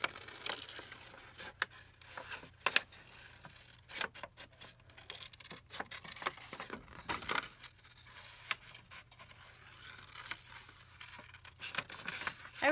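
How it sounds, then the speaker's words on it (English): Scissors fussy-cutting paper glasses for a junk journal page: close, irregular snips and crisp paper rustles, with soft crinkling between cuts and no talking. "So if we fussy cut the glasses."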